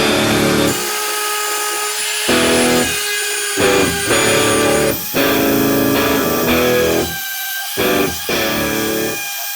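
A power tool grinds down sharp points and bumps on a JB Weld–repaired wheelbarrow, cutting in as repeated loud bursts of buzzing with short pauses between them, up close.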